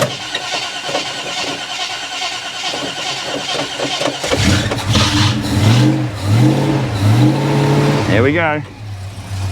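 Holden HK 253 V8 cranking over with a rhythmic starter churn, then catching and firing into a loud, lumpy running idle with a couple of throttle blips, after a fuel pump replacement; someone speaks briefly.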